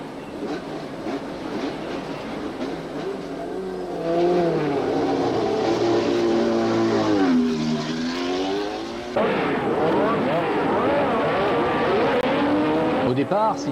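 1974 Formula 1 cars howl off the grid at the Dijon-Prenois circuit, several loud high-revving engines rising and shifting pitch together, with a commentator talking over the roar.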